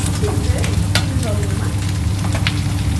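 Sucuk, a Turkish sausage, sizzles and fries steadily on a hot griddle, with scraping and stirring taps over the constant crackle at close range.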